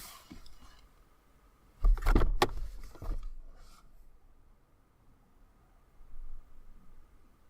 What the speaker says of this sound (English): It did sound more like a car door than it actually sounded like a door.